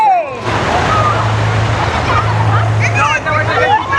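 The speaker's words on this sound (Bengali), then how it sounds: "চলে এসেছি বকখালি সমুদ্র সৈকতে, দেখতে পাচ্ছি আজকে পর্যটকের ঢল নেমে গেছে" Bakkhali sea beach crowded with tourists, a steady wash of waves and broad crowd hubbub, with a low engine drone and people talking throughout.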